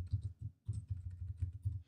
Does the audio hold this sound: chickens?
no